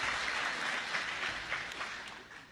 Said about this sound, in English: Please give a round of applause to yourself for this great achievement